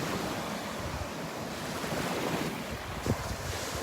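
Small waves break on a beach along the Gulf coast, a continuous close wash and rush of surf with wind noise buffeting the microphone, a slightly stronger surge near the end, no voices.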